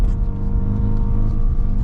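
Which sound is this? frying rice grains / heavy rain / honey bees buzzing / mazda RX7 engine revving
mazda RX7 engine revving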